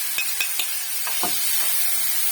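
Food frying in a pan with several quick metal scrapes and clinks from stirring at the start, then a steady close hiss of sizzling oil, with no speaking.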